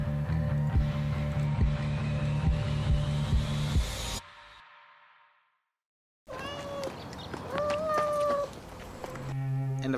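A cat in the 1997 film Gummo, heard as loud meows and caterwauling over water sounds and background noise, broken by a brief silence before more wailing cries.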